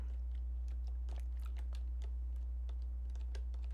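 Computer keyboard keys clatter in quick irregular taps, close and fairly soft, over a constant low electrical hum.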